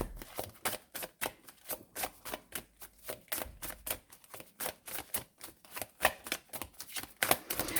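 Tarot cards being shuffled for a reading give off a rapid, steady run of crisp riffling snaps, close and clear, with no talk over them.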